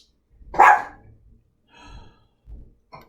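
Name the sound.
dog barking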